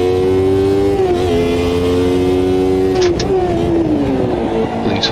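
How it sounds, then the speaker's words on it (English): Formula-style race car from the 1991 F1 season at Estoril in Automobilista 2, engine screaming loud and steady then dropping through quick high-speed downshifts, each blip and fall in pitch clear, with no talk. "I think it's high speed downshifts like that."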